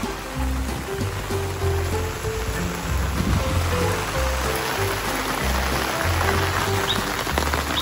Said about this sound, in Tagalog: 3 araw po na ulan.